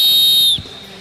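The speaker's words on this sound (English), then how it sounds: "I'll call for axes up and then I'll blow the whistle." A referee's whistle at a strongest firefighter competition shrills loud and steady for about half a second, then cuts off, leaving a low murmur of crowd noise.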